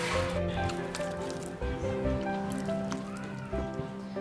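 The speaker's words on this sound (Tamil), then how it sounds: "இப்போது கொஞ்சமாக இதில் தண்ணி ஆட் பண்ணி ஒரு பேஸ்ட் மாதிரி ரெடி பண்ணிக்கோங்க." Masala spices stirred with a little water into a wet paste for fish biryani, a steady squishing, sloshing churn heard up close without any talk.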